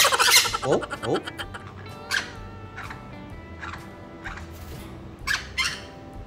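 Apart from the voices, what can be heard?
new pet baby birds chirping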